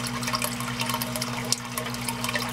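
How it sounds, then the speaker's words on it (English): Aquarium filter outflow splashing down like a small waterfall, a continuous close trickle and patter of falling water over a steady low electrical hum from the filter motor. "becomes small waterfall right down there. Continuously flows, causing continuous aeration as well."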